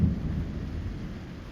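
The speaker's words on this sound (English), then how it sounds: "It's still thundering, still raining" A thunderstorm rolls outside a Vauxhall Vivaro camper van under construction: low rumbling thunder swells at the start and fades into steady rain. There is no speech.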